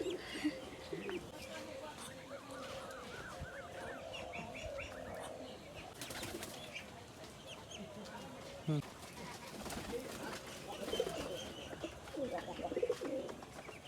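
Pigeons cooing on a small hobby farm, soft repeated coos and faint chirps in a quiet background, with some talking at moments.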